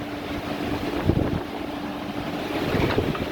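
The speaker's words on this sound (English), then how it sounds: "whenever a big gust of wind hits" Strong wind from Hurricane Ian, a continuous rushing roar with buffeting on the microphone and gusts swelling louder in bursts, no voices.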